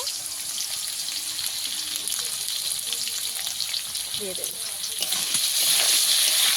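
Potatoes fry in hot oil in a home kitchen, giving a steady close sizzle and crackle that swells slightly toward the end, with no talk over it.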